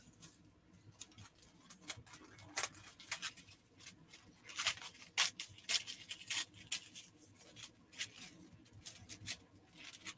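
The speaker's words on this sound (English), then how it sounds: "you want to have sharp scissors when you're cutting this" Scissors snip and crunch through a thin sheet of foil heat transfer vinyl in an uneven run of crisp clicks and cuts, close by, with faint background hum.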